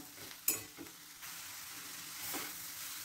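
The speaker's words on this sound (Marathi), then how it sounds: "आता हे सगळं एकत्र मिक्स करून घेऊया, आपण एकजीव करून घेऊया सारण हे सगळं" Modak filling mixture of jaggery is stirred in a pan, with a soft sizzle, a sharp spoon clack near the start and gentle scraping strokes, quiet and close.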